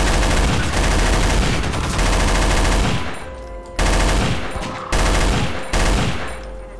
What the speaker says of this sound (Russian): А, стреляют, стреляют!